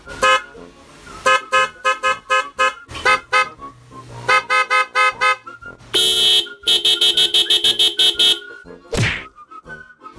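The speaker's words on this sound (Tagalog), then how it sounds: "May mga busina dito na marunong magsalita." A loud electronic horn blares a rapid series of melodic bursts and chirps, with short pauses between phrases, ending in a falling swoop.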